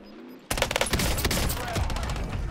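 Video game gunfire bursts in suddenly after a quiet moment, a loud, dense fusillade of rapid automatic shots that carries on continuously at close range.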